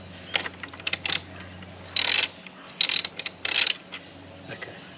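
A ratchet wrench loosens a bolt on the pannier rack of a 2022 Triumph Tiger 1200 Rally Explorer motorcycle, giving close, loud bursts of rapid clicking separated by short pauses over a low background hum.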